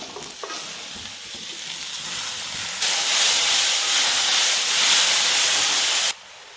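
Onions, tomato and garlic fry in an oiled pan for a Kerala egg curry, a soft sizzle that bursts into a loud hissing surge when ingredients drop in, then cuts off abruptly.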